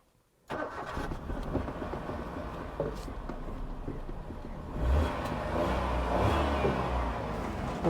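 A car engine cranks and catches after a moment of silence, then runs with a rough steady rumble that swells as it is revved, close and fairly loud.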